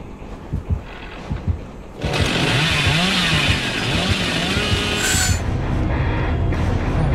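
Chainsaw in the Dead by Daylight video game revving loud and close, a sustained roaring whine with pitch wobbles that starts abruptly after a couple of seconds of quieter thuds and footsteps.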